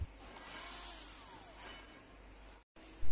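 A power drill winding motorcycle coil wire whirs steadily at close range, its pitch gently shifting, then cuts out briefly before a loud burst at the end.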